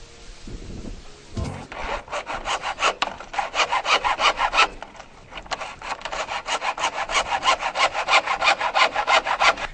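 A hacksaw cuts through PVC pipe in steady, fast back-and-forth strokes, loud and close, with a short pause midway before the rasping rhythm resumes.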